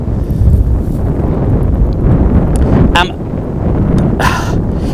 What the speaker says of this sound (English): It's quite windy, so I hope you can hear me.